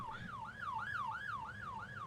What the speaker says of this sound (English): Let me turn off the siren.